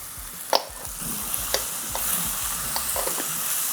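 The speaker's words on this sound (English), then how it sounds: "So we've been sauteing the aromatics for about 2 minutes" Aromatics sautéing in oil in a pan while cooking saffron rice, a soft continuous sizzle under sharp intermittent clinks and scrapes of a utensil stirring, close and steady, with no talk.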